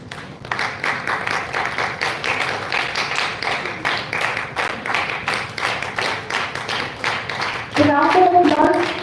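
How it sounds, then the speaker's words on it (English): Sustained audience applause at an academic ceremony during a badge and bouquet presentation, steady dense clapping throughout that swells near the end as a voice begins speaking over it. "The round of applause should continue"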